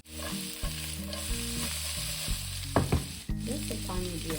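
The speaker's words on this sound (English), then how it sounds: "Stir everything nicely." A spiced mixture fries in a pan while being stirred, giving a steady close sizzle broken by scraping and clinking stirring strokes, with no talk.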